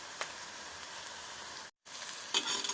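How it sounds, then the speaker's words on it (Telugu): Onions frying in a pan with a little salt for samosa stuffing, a steady close hiss and sizzle broken by a brief dropout, with a couple of soft stirring scrapes. "ఆనియన్స్ బాగా ఫ్రై అవుతాయి."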